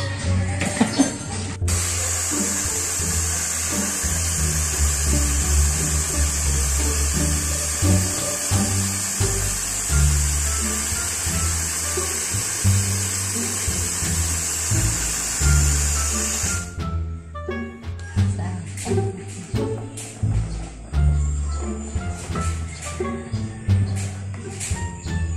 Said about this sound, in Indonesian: Sana kayanin ang ating blender.